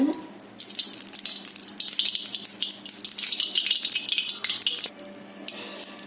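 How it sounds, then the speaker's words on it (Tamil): Oil is poured into a cooking pan (chatti) for a chickpea kuzhambu, making a steady close hiss and sizzle that swells and fades over several seconds. "சட்டியில் கொஞ்சம் எண்ணெய் ஊற்றிக்கோங்க"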